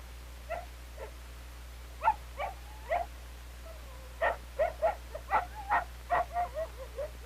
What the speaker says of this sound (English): Then everyone helps to pull the sled forward to the edge of the sea ice, where Panelo will hitch up the dogs.